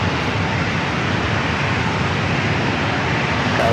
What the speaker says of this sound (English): we have the 777-300ER Speedbird heading down for a takeoff